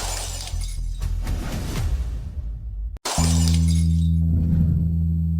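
Fragile drinking glass shatters loudly, a bright crash of breaking glass and tinkling shards, then a brief cut followed by a low sustained tone under fading debris.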